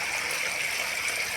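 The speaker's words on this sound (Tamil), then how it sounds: "சவுண்டு போகிறது, தண்ணி போகிற சவுண்டு உங்களுக்கு நல்லா கேட்குன்னு நினைக்கிறேன்" Water rushing through a channel after heavy rain, a steady loud continuous hiss and gush of flow with no pauses or voices.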